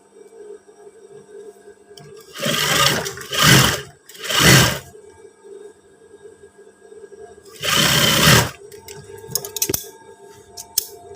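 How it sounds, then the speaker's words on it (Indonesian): A sewing machine stitches the belt strap onto a pair of PDL-style trousers with cargo pockets, running in three bursts: two short runs close together, then a longer one after a pause. "Kita lanjut jahit talinya"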